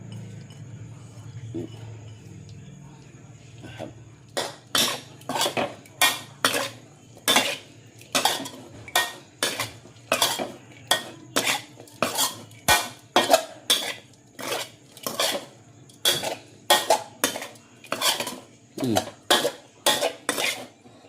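A spoon works cut spring onion, coriander and lemongrass into fish laab in a bowl, giving a steady run of sharp, regular clinks and scrapes that start after a few quiet seconds and continue rhythmically throughout.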